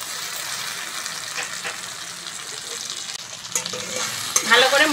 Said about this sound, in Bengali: ভালো করে মশলাগুলো কষে নেব